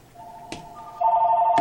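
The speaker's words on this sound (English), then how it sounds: "had to get the phone." A telephone rings in a home workshop, a steady electronic warble that grows louder and more insistent partway through, with two short bursts of noise around it and no voices.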